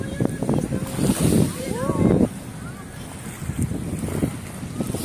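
Waves at high tide on Manila Bay wash and churn nearby amid steady wind noise, with voices and bursts of activity in the first couple of seconds before settling into surf.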